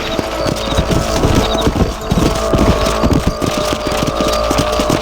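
Horse hooves gallop in a Red Dead Redemption game, a quick, loud, steady clip-clop drumming over a constant rumbling background with no talk.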